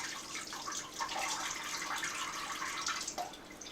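Water draining out of soaked expander fishing pellets, a steady close trickling and splashing that runs continuously without pause.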